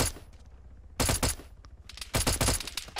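Gunfire from a vehicle in ARMA 3: two sharp bursts of rapid shots, the first near one second and a longer burst near the end, loud against a quiet background.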